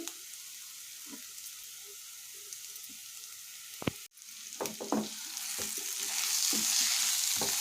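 Bitter gourd pieces fry in a pan with chili-onion masala and tomato, giving a sizzle that grows louder and denser, broken by sharp scraping and tapping clicks of a stirring spoon against the pan.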